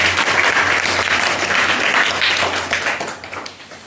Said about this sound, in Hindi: इनके लिए जोरदार ताली हो जाएगी